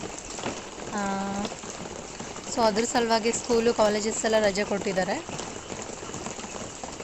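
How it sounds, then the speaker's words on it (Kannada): Steady rain falling outdoors, a soft continuous patter heard throughout beneath someone talking. "ಸೊ ಮಳೆ ಬರ್ತಾ ಇದೆ ಇವಾಗ."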